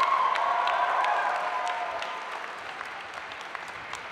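Graduating class applauding at a university spring convocation ceremony, a steady wash of many hands clapping in a large hall that gradually thins and fades over a few seconds.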